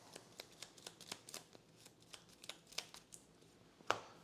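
Playing cards shuffled during a board game, a quiet run of crisp riffling ticks and flicks that ends in one sharper snap of the deck, close and alone with no talk.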